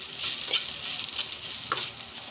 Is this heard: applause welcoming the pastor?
no